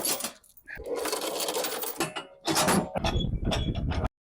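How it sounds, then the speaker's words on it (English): A Vermeer SC382 stump grinder runs close by, a loud, continuous mechanical grinding roar that pulses and surges as the cutter wheel bites into the stump, then cuts off abruptly near the end. "Just a regular stump grinder. Let's get her done."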